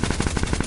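Rapid gunfire in Fortnite rattles off in a fast burst of roughly a dozen shots, loud and close, with no talking.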